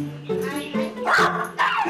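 A dog at a dog rental cafe in Tokyo gives a few short barks and yips close by, mixed in with a voice talking.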